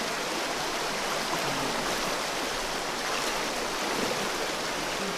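Deep water rushing steadily along a stream, a constant loud broadband flow with no breaks, heard up close without any talk.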